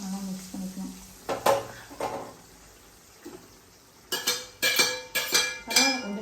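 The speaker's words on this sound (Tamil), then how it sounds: "இதெல்லாம் நல்லா மிக்ஸ் பண்ணிக்கலாம்." Tomato pickle ingredients being mixed in a pot, with scattered utensil clinks and scrapes, some sharp knocks and a quicker cluster of stirring taps toward the end.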